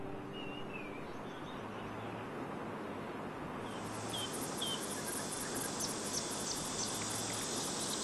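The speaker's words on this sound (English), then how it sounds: "Summer, with its burning sun, comes as expected, accompanied by the noise of cicadas." Summer cicadas on Mount Wudang, a dense, steady insect drone that stays faint and thickens into a brighter, fuller buzz about halfway through, with no voices.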